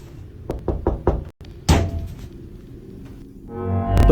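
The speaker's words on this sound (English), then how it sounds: "another knock sounds on a different door" Knocking on a door: a quick series of four or five sharp raps, then a single heavier thud after a short pause, with a further dull bump near the end.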